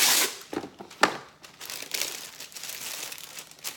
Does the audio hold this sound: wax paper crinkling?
yes